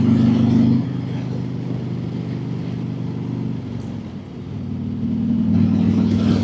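A motorcycle trike fitted with a 117 engine revs steadily up close, its deep harmonic drone dipping briefly mid-clip before climbing again toward the end, with no voices.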